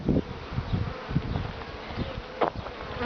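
A few leftover honeybees buzz near beehives in the sun after being moved to new hives, soft intermittent buzzing close by with faint handling knocks.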